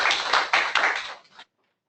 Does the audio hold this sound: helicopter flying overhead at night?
no